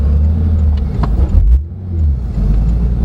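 A 2016 Porsche 911 GT3 RS (991.1) engine revs hard while driving on the road, a loud, throaty roar that surges, dips briefly, then climbs again close up.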